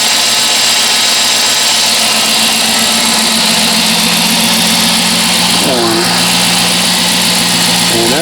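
A 2006 Dodge Charger with a 5.7 Hemi V8 idles steadily after a power steering pump replacement, a loud continuous engine drone with a brief pitch sweep near the end, while a person talks over it.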